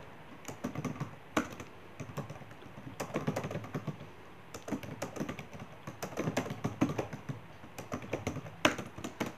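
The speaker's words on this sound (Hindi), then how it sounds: "तो थोड़ा सा और कुछ टाइप कर लेता हूँ" Steady typing on a computer keyboard while entering text in Notepad, a dense stream of close key clacks with occasional louder strokes such as the space bar, continuous over a low room hiss.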